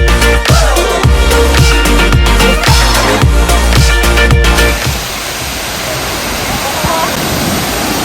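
A large waterfall near Luang Prabang, Laos, gives a loud, continuous rushing roar that takes over in the second half, after a rhythmic, beat-driven musical passage.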